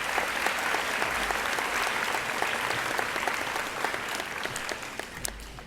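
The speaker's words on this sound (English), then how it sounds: "So let's give them one more round of applause." A school board of education awards audience gives a round of applause for school staff, steady and full-bodied clapping that tapers a little toward the end.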